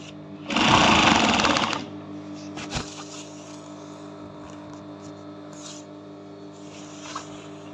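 A Juki high-speed sewing machine whirs in one loud, close burst of about a second, then stops, leaving a low steady hum with a few faint clicks and taps afterward.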